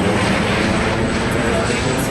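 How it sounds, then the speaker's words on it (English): A helicopter passes over a university campus near a medical center, a steady, loud rotor-and-engine roar that fills the whole stretch without fading. "there's a helicopter going by"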